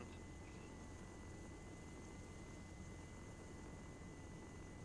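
A helicopter in the game Arma 3 drones steadily in flight, a faint, even whir with a thin high hum, unbroken and without voices.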